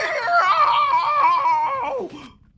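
A character in Danganronpa: Trigger Happy Havoc gives a loud, sustained high-pitched scream that wavers for about two seconds and then breaks off abruptly, close and alone.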